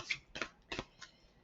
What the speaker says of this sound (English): So I will shuffle until I feel I need to stop.